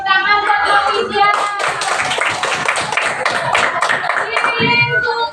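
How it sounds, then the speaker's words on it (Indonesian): A group claps hands together for a woman at a school gathering, brisk steady clapping near and loud, with young voices singing or calling over it at the start and end. "Tepuk tangan buat Mbak Widya."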